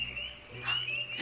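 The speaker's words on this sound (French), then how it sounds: "Non, c'est une grenouille, une rainette." A tree frog calls in a marsh, a steady high trilling note running through the whole short stretch with brief brighter chirps near the middle and end, fairly faint over a low background hum.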